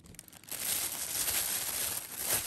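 Plastic bag crinkling while unboxing a Canon RF 100mm macro lens, close and continuous rustling after a brief quieter start, with no talk.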